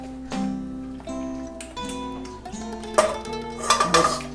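Pasta being added to a cooking pot and stirred for giambotta, with metal utensils knocking and clinking against the pot in scattered rings and clatters that grow busier toward the end, close and moderately loud.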